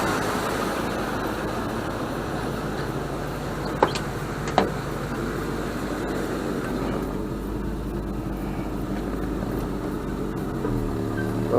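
A 1973 Ford Torino V8 idling after years of sitting: a steady, close engine rumble throughout, with two brief clunks as it drops into gear.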